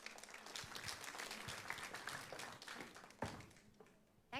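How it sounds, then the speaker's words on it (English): An audience at a multicultural music and dance festival applauds the Liberal candidate for Swan. The clapping is moderately loud and sustained, with a few sharper individual claps standing out near the end. "Please give her a round of applause."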